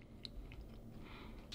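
Dried pollock (meoktae), still soft and chewy, is chewed close to the microphone, producing faint, sparse moist clicks and soft crunches against a quiet background.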